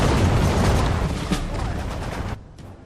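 Bombs explode in a dense rumbling barrage during a bombing run in the WWII strategy game Sudden Strike 4, loud and continuous with crackling bursts, cutting off abruptly near the end.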